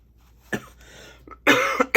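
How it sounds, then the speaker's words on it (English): A person with a cold coughs several times, a short cough and then a burst of harsher, louder coughs close to the microphone, with quiet pauses in between. "Excuse my coughing."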